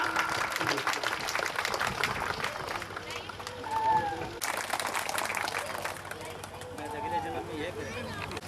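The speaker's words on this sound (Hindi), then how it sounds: "हाँ, जोरदार तालियों स्वागत कीजिए इन बच्चों का।" Audience applause welcoming children on stage at a school annual function, continuous clapping and crowd noise mixed with music and a voice talking over it.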